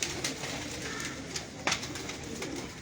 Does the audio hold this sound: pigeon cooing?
yes